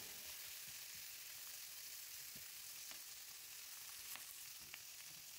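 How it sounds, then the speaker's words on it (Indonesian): Bean sprouts and mustard greens stir-fried together in a wok for seafood fried vermicelli, a steady faint hiss of frying with a few soft scrapes and taps, no talking. "Lanjut di ongseng-ongseng lagi semuanya ya."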